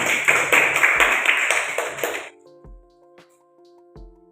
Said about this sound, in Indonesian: Aplaus semuanya, bertepuk tangan.